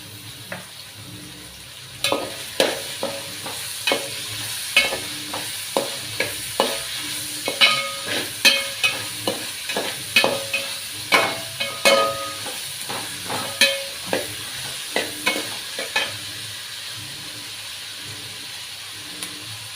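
Onions sautéing with salt in a pan while being stirred, giving close, rhythmic scraping and clacking strokes over a low, continuous sizzle, about twenty seconds long and steady throughout.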